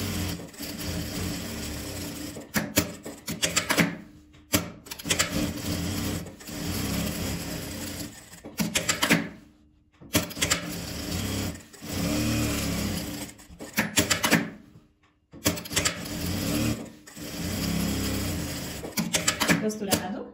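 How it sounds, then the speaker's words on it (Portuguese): A sewing machine runs in bursts of rapid stitching along a seam on a fabric Christmas piece, stopping and restarting several times while someone talks over it. "Vou passar uma costura nele todo"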